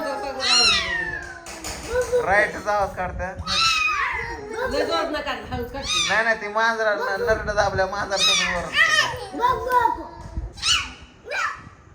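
A cat gives repeated loud meows close by amid a lively family scene, with children's voices and chatter overlapping the cries throughout.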